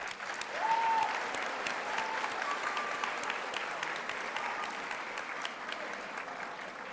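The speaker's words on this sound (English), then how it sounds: "Let's give them a round of applause." Sustained applause from a graduation audience honoring teachers and staff at a Thomas Wallace Middle School 8th grade ceremony: dense, steady clapping filling the hall, swelling slightly at first, then holding evenly to the end.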